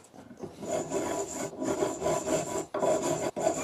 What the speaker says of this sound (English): So in order for it to fit, I just need to file it down a bit.